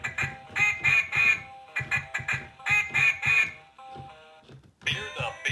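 A Loudmouth Mallard talking duck toy squawks out phrases in a raspy, quacking voice. Several rhythmic bursts of syllables are separated by short pauses, fairly close and clear, with a different sound at the very end.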